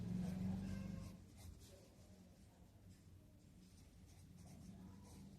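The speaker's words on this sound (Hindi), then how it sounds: "हम यहाँ उनके नाम लिखते जाएंगे।" A pen writes children's names onto a paper tracker sheet at a classroom desk, a faint, steady, close scratching that runs continuously against a low background hum.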